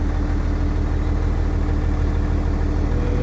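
A homemade tractor's diesel engine idles steadily nearby, a constant low chugging rumble with no talk over it.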